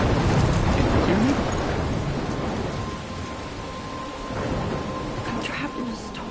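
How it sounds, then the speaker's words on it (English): A thunderstorm in the video game Life is Strange, with a low rolling rumble at the start that settles into steady rain noise and a fainter second swell of thunder. "I'm trapped in a storm?"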